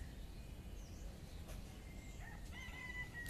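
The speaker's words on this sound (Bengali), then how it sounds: "পাখিগুলো অনেক ডাকছে আজকে" A rooster crows faintly in the distance on a clear morning while other birds call, all set against a steady low background hum with no talking.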